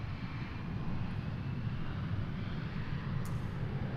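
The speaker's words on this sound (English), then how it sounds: "Come on, set her down. There you go. There goes the reversers." A private jet lands at Boeing Field with its thrust reversers deployed, giving a steady, loud, broadband engine roar that holds throughout without talk.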